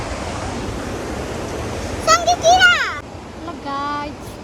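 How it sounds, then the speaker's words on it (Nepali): The swollen Tinau River (Tinaukhola) in Butwal rushes after days of rain as a constant broad roar, with voices, including a child's, speaking briefly over it partway through. "हेर्न सक्नुहुन्छ खोला चाहिँ बढेर हिँड्छ खासै।"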